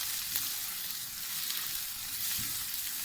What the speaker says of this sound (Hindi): रेड चिली पाउडर, और इसको हम मसाले के साथ अच्छे से हम भूनेंगे।